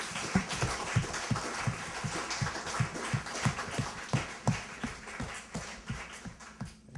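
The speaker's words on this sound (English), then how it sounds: "So I'd like to give a round of applause." A small audience gives a round of applause at a campus club meeting of about seventy people: steady, rhythmic clapping that sounds fairly thin and close, with a sparse, regular beat and no talking over it.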